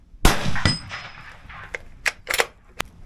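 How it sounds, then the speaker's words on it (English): Gunshots fired at a deer target during a firearms safety course ring out as several sharp, loud cracks spaced irregularly, with metallic ringing decay after the first impacts. "when you're ready, you can take the shot."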